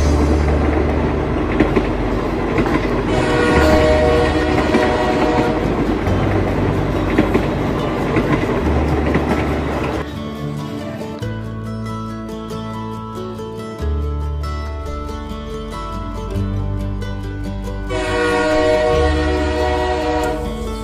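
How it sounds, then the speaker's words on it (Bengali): A toy food-delivery train pulls into a station-themed stop at a Kolkata restaurant: a loud, continuous mechanical rumble and clatter, with sustained horn-like whistle tones sounding at the start and again near the end, heard alone. "আমাদের ট্রেন চলে এসছে দমদম স্টেশনে।"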